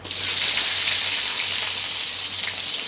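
Finely chopped onion frying in hot oil with mustard seeds and cumin, a steady broad sizzle close up that holds evenly throughout with no talk over it.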